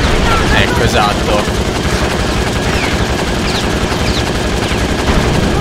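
Rapid automatic gunfire from the PS2 kart-combat racer Crash Tag Team Racing, sustained bursts of shots over engine roar and in-game action noise, loud and continuous throughout.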